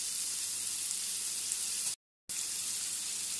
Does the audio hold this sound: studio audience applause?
no